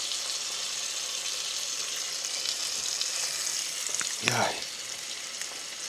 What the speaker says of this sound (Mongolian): хэдүүлээ стик шарна да